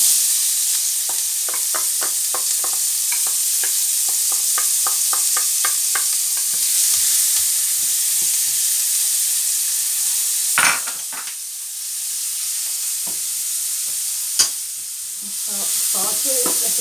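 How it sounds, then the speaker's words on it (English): Onions and garlic saute in a pan with a constant hissing sizzle. Quick taps and a few louder scrapes of a utensil stirring break through it. "Now I'm going to saute the onions with garlic"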